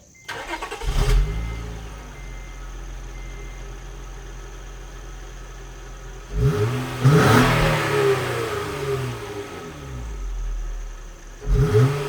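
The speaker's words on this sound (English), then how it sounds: "Let's start it up and give it some revs." A 2004 Acura TL on stock exhaust, warmed up, starts and then revs in a couple of strong bursts, with a steady idle in between and one more rev near the end, heard close and alone.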